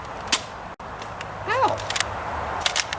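A Nerf blaster fires a sharpened 3D-printed dart into the shooter himself: a single sharp pop near the start, then a brief cry and small clicks and taps.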